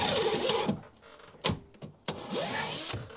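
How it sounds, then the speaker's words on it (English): A battery drill bores holes through timber noggins on a solo building site. A loud whirring burst is followed by several short, sharp bursts of drilling with brief pauses between them, close by, with no talking. "I'm going to lean forward like that and drill that through."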